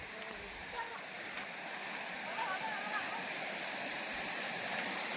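Rain-season stream water pours and gurgles continuously down from the hills toward village fields, a loud, steady rushing wash with faint faraway bird-like chirps and no clear talk.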